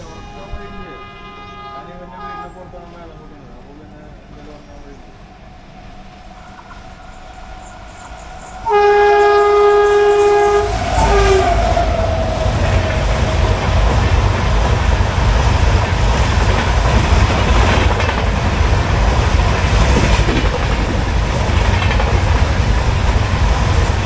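Mangala Lakshadweep Express pulling into Chiplun station, quiet at first, then a loud horn blast followed by a sustained heavy roar of rolling wagons and rail clatter, with a voice talking over it.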